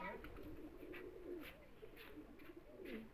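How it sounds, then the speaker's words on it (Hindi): Golden tiger pigeon, a male bird, cooing softly in low rolling phrases that repeat through the clip, faint and close, with someone talking alongside. "टाइगर कबूतर है ये गोल्डन।"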